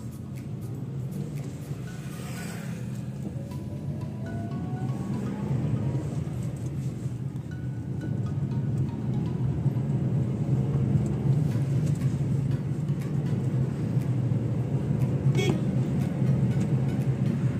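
A Nissan Magnite XE car drives along a road, its steady engine and road rumble gradually growing louder and continuing without pause for the whole stretch.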